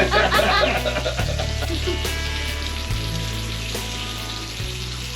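Bacon frying on a Scottle grill, a steady close sizzle with a low hum running under it, alone without talk.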